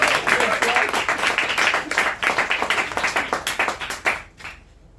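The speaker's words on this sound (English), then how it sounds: "One round of applause for impersonations." Audience applause at an English-language stand-up comedy gig: a dense run of many hands clapping that keeps going steadily, then thins and fades out over the last second.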